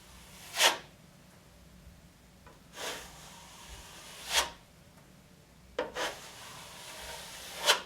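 Trowel scraping joint compound across a drywall patch to flatten a ridge during skim coating: five short, separate rasping strokes, fairly close and moderately loud over a quiet room.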